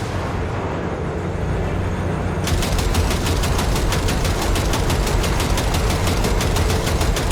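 Rapid automatic gunfire in the Cyberpunk 2077 video game kicks in suddenly partway through, a fast even stream of shots over a loud, constant rumble of a moving vehicle.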